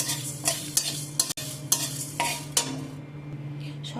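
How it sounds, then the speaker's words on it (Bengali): Whole coriander, cardamom, cloves and a chili fry in a wok, stirred with a utensil: a faint sizzle under a steady low hum, broken by a handful of sharp scraping strokes and clinks. "দিয়ে একটু ভেজে নেব।"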